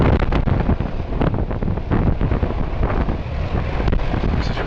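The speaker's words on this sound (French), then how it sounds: "La force du vent qui s'engouffre dans ce fjord" Strong, roaring wind funnelling through a fjord at Arnøya buffets the microphone continuously, with gusty low rumble and occasional louder blasts, near and loud, no voices.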